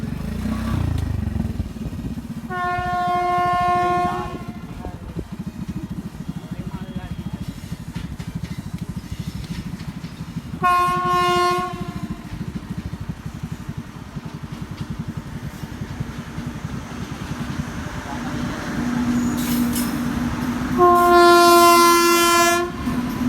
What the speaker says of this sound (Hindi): बहुत बड़ा ट्रेन है, देख सकते हो, 2-3 किलोमीटर तक है।